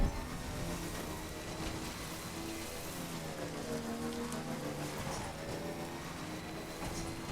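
Timefall rain in the video game Death Stranding, a steady hiss of rain pattering on surfaces, constant and even throughout, with a low droning tone beneath and no voices.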